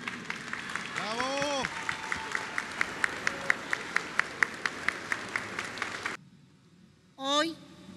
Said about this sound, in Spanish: Fuerte los aplausos a Tazaico del Pino.